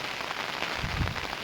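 Monsoon rain falls steadily around Dajipur near Radhanagari, a dense, even hiss of drops hitting surfaces at low to moderate level with no voices.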